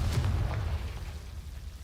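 Confringo blasting spell explosion in Hogwarts Legacy, one short booming burst with a deep low rumble that fades quickly, alone without talk.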